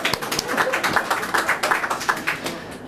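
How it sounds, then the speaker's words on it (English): Scattered applause at a meeting: a small group claps briefly, a few uneven, fairly quiet claps in quick succession fading out within about three seconds. "We have some applause to that."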